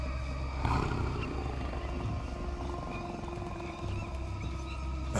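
A deep, tiger-like big-cat roar rumbles through a Green Hell jungle scene, a sustained low growl over steady ambient noise, swelling once near the start and holding fairly loud throughout with no talking.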